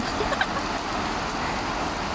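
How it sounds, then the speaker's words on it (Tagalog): Heavy rain pours steadily in the UAE, a dense, even hiss of downpour close by without pause. "Ayan o, ang lakas ng ulan."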